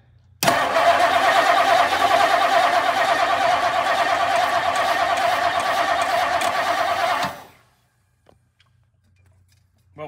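A 1959 Lincoln engine cranks over loudly on the starter for about seven seconds, a sustained, churning grind that cuts off abruptly, followed by near silence.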